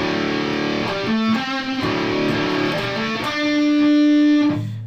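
A distorted electric guitar plays a chugging open D power-chord riff with sustained notes, loud and clear with no voices.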